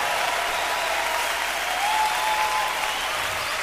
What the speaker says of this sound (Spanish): Levante ese aplauso fuerte.